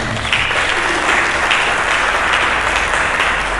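A church congregation breaks into loud, dense applause during a sermon, a steady roar of many hands that holds at full strength from start to finish.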